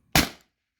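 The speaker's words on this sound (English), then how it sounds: "This is the second shot." A single close, sharp crack from a Beeman BP50 air pistol firing a 4.6 gram MCS Devastator pellet outdoors, decaying quickly into silence.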